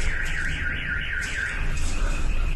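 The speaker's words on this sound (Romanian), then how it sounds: "Alarme antiaeriene continuă să răsune constant în orașele ucrainene bombardate de ruși" An air raid siren sounds over a Ukrainian city, a loud wavering tone that rises and falls in quick regular cycles and is heard alone against a constant background rumble.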